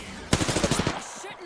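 Rapid burst of video game gunfire, about eight quick shots in a steady rattle lasting under a second, then fading into quieter game ambience.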